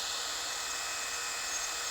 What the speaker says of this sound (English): I'm drilling stainless steel here